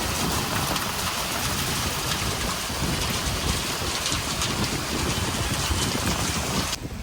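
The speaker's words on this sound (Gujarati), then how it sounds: "બ્રાઉનીનું ખાવાનું લેવા માટે ને અહીંયા એટલું બધું વરસાદ ચાલુ થઈ ગયું ને તમને બતાવું" Heavy rain pours down in a dense, unbroken hiss, loud and steady throughout with no voices.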